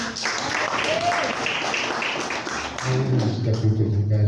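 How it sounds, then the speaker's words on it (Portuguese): Inside a church, a congregation at a missions service claps steadily for several seconds amid voices. A louder, lower sound comes in near the end. "As palmas louvem ao Senhor."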